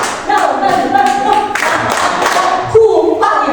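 A group claps hands in a steady, loud, fast rhythm indoors, bright slaps running without pause for several seconds.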